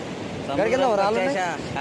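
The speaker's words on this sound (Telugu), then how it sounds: "బాపట్ల బీచ్ చూడర్రి" Sea waves at Bapatla beach keep up a steady surf rush with wind noise on the microphone, while a voice talks over the middle of it.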